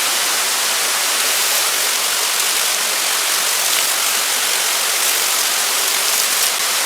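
Water is poured into a freshly dug post hole packed with stones and sand while the first post of a barbecue grill is set. It makes a steady, close, continuous rushing gush with no pauses and no talk.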